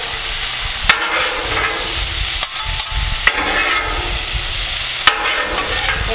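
Cheesesteak filling is mixed on a Blackstone griddle outdoors at a campsite. A loud, continuous sizzle runs throughout, broken by four sharp metallic spatula clacks spaced a second or two apart.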